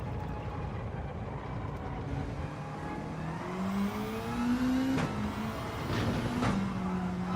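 A Gran Turismo 7 race car engine drones steadily, then its pitch steps down through late downshifts and rises again, sounding close and continuous with no talking.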